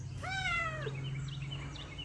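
A stray cat gives one clear, drawn-out meow close by, followed by softer chirpy calls, over a low steady hum.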